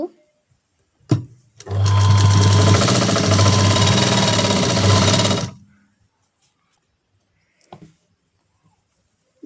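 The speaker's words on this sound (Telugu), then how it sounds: "కుట్టుకోవడం అయిపోయిన తర్వాత మళ్ళీ ఇటువైపు డబుల్ కుట్టు వేసుకుందాం పక్కనే ఒక కుట్టు" A sewing machine runs a double line of stitching on a blouse in one continuous loud burst of about four seconds, with a few soft clicks before and after in an otherwise quiet room.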